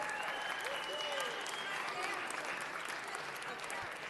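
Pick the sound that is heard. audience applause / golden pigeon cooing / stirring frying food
audience applause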